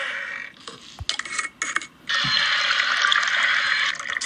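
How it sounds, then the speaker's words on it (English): Water pours in the Toca Kitchen 2 video game, a few short splashes and trickles, then a steady bright gush of running water that continues to the end, close and clear with no talking. "Let's put some water in it."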